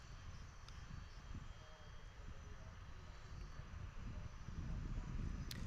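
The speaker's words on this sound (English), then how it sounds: "The A340 in the old livery is kind of nice to see. There it is, in from Frankfurt." An Airbus A340 arriving from Frankfurt at DFW airport produces a steady, distant low engine rumble. The roar is faint and broad and swells slightly toward the end.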